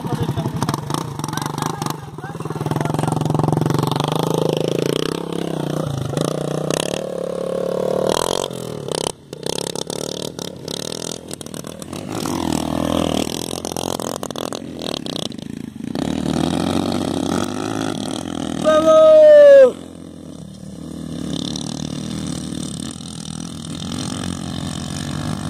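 A Tuday 125cc motorcycle engine revs while being ridden, rising and falling in pitch with bursts of throttle and a sharp upward whine near the end, over wind and handling noise.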